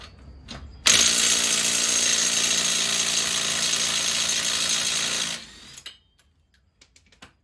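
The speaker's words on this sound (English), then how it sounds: "This is a decent impact gun. If I have to do this much to get one lug nut off," A pneumatic impact gun works a tight lug nut on a Toyota Corolla, one continuous loud rattling hammer burst of about four and a half seconds, close up, followed by a few light clicks.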